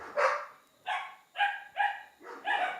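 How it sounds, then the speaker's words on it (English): Dogs on a farm bark at a window, giving five sharp, close barks in an uneven rhythm with short pauses between them. "I had to get these dogs away from the window"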